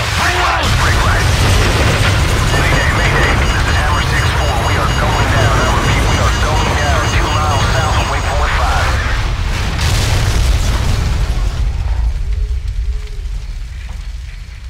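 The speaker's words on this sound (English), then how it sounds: "Incoming missile!" Loud, sustained roar and rumble of an incoming missile blast in the Call of Duty 4 mission Hunted, a dense wall of explosion noise filling the whole stretch, fading slightly at the end, with voices shouting underneath.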